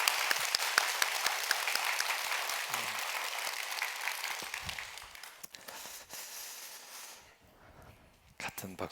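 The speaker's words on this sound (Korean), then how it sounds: "자, 일어나셔서 우리 친구들을 위해서 한번 기립박수로." A church congregation at an early-morning worship service gives a standing ovation, dense clapping that fills the first half, then thins and fades into scattered claps and quiet near the end.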